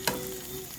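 Canned peas, undrained, sauté with spices in a pan for curried lentils, a brief close sizzle opening with one sharp clack of a utensil, then a steady hiss.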